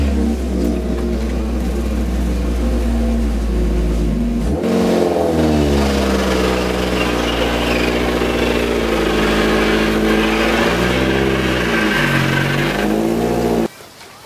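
A car engine revs repeatedly while the car backs out, starting from a low idle, then loud rising and falling revs close by, ending abruptly with a quieter tail.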